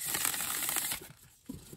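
Thin-cardstock cards of a new Healing Mantra deck being shuffled, a close, crisp riffling crackle that runs steadily, pauses briefly, then resumes with a soft snap near the end.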